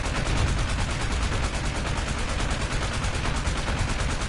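Tank gunfire in War Thunder rattles on without a break, a dense, loud, unbroken burst of rapid shots with heavy low-end rumble.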